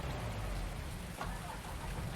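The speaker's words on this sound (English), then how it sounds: "It's bloody raining." Steady rain hiss in Farming Simulator 19, falling across open farmland near a Claas Lexion 6700 combine harvester, a continuous even wash of droplets with a soft low rumble underneath and no voices.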